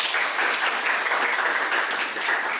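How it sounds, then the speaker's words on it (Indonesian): Schoolchildren in a classroom clap together in a dense, loud, continuous burst that holds evenly throughout, with no talk over it. "tepuk tangan dong untuk kita semua"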